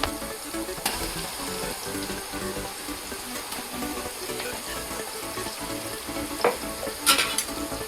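Ground masala paste sizzling and being stirred into frying mutton biryani, a continuous close hiss with scraping stir sounds and a few sharp clinks near the end.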